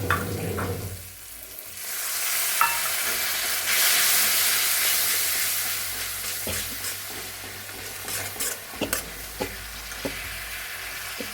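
Cumin powder and spices fry in a hot pan for a fish curry, making a loud, continuous sizzle with occasional stirring clicks and scrapes, close by and without talk.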